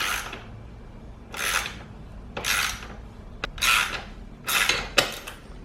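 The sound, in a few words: wrench turning press tool pressing out KTM Heim joint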